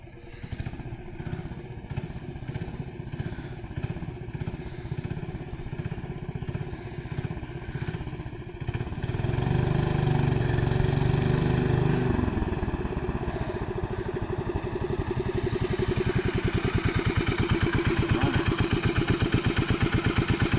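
The Tecumseh engine on a 1975 Owosso Exalter lawn tractor runs with a fast, rattling putter, then revs up louder and rougher as the tractor takes off, staying steady and close throughout.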